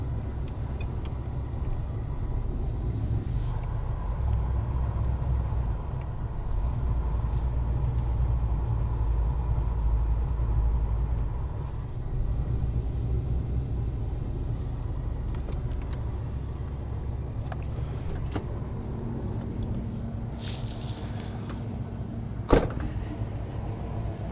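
A car engine idling after a cold start on a driveway in icy Colorado weather, a steady low rumble running throughout, with a few faint clicks and a short sharp knock near the end.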